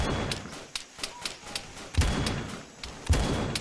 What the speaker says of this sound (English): I'm just gonna pick off one of the turrets. I'm gonna take a few shots at him.